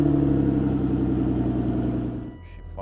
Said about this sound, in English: So we're going to do a little cold start here.